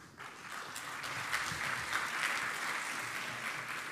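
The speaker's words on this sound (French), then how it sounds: "Vous pouvez les applaudir." Audience applause fills a conference hall at a developer event in Toulouse, a steady dense wash of many hands clapping that swells after a moment and holds loud to the end.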